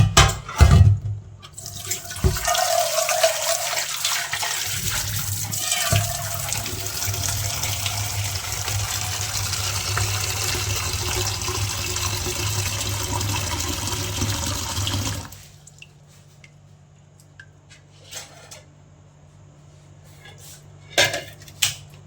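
Hot water from boiling eggs gushes loudly and continuously out of a pot for about fifteen seconds, then stops, leaving a quiet hum with a few clinks of the pot.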